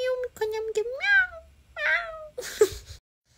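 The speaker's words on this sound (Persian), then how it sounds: "پیشی میاد میو میو میکنه میگه میو" Cat meowing in a series of drawn-out rising and falling cries, close and clear, with a brief breathy noise near the end.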